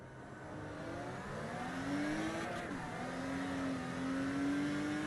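Race cars in a racing video game come down the start-finish straight, engines rising in pitch as they accelerate, dipping briefly at a gear change, then climbing again, with a steady loud whine throughout.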